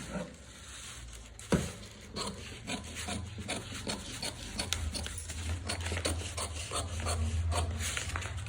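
Scissors cutting through a paper blouse pattern on a table, steady rasping snips and rubbing paper sounds close up, growing slightly louder toward the end; no talk.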